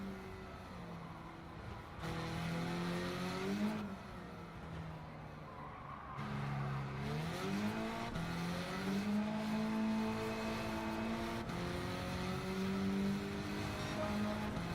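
Race car lapping a circuit in Gran Turismo 7, a steady engine drone rising and falling in pitch through gear changes and corners, with tire noise underneath and no talking.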